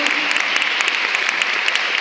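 A church congregation at a Spanish-language service applauds in a steady, crisp wash of clapping with some louder individual claps, sustained throughout.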